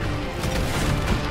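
Dense, loud gunfire from a video game firefight, a short burst of rapid booming shots with no pause.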